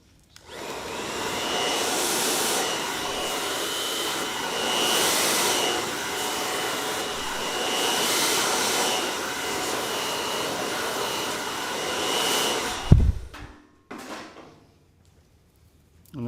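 A hair dryer blows steadily and loudly for about thirteen seconds, then cuts off with a clunk, followed by a brief quieter rustle.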